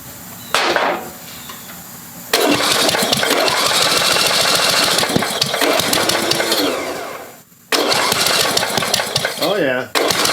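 A Briggs & Stratton 8 hp engine on a 1988 Caldor MTD lawn tractor cranking after a shot of ether, a loud rapid rhythmic chugging in long bursts with short pauses, with a person speaking at points.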